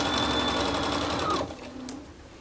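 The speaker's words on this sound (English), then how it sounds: "So we just are going to finish sewing this down" A sewing machine stitches piping onto the edge of a quilt, a steady close mechanical whir that stops abruptly partway through, followed by quieter handling sounds.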